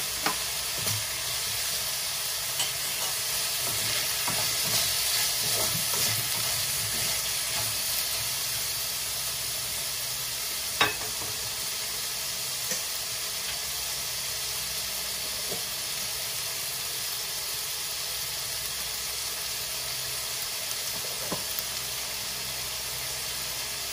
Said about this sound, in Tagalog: Lagyan natin ang tokwa.